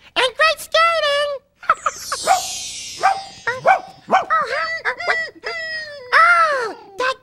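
A dog barks and whimpers in a rapid series of close yips and whines with pitch swoops, interleaved with brief gaps.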